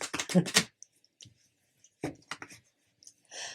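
Tarot cards being shuffled by hand, a quick burst of crisp riffling flicks at the start, then scattered softer card taps and slides with pauses between, close and quiet.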